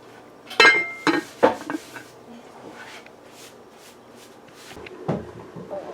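Metallic clinks and clatter of a lid set onto a pot of metemgee provisions left to boil, several sharp hits close by, then quieter kitchen handling sounds.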